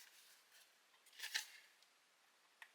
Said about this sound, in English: Now I'll take my Fiskars scissors and trim